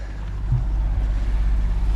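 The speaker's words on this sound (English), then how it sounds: "We got another engine back on." Sailboat's auxiliary engine running in calm conditions on a passage in New Zealand waters, giving a steady low mechanical drone with a faint rhythmic pulse and a brief knock near the start.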